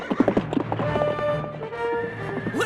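Horse hooves clip-clopping at a gallop in a 2003 Japanese anime about Alexander the Great, with a whinny rising over the steady pounding rhythm and dramatic scoring underneath.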